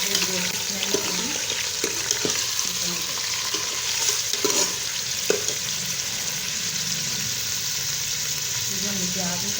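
Mutton frying in a pot for aloo gosht, a steady close sizzle with scattered scraping and clinking as it is stirred.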